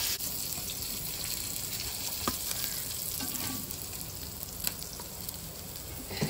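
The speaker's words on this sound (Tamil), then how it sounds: "மீன் பொரியிருது" Fish frying in oil in a clay pot, a soft steady sizzle and bubbling hiss with occasional pops, close but quiet and continuous, no one talking.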